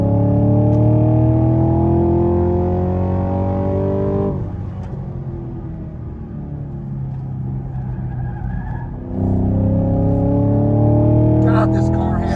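A Chevy Camaro SS 1LE driven hard on a race track, its engine roaring loud and close in sustained pulls, dipping briefly mid-run before surging again, with no talk.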